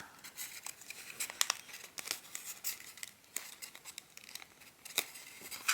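Origami paper is creased and folded into a turkey shape, producing soft crinkles and sharp papery snaps in irregular bursts, close and quiet, with no voices.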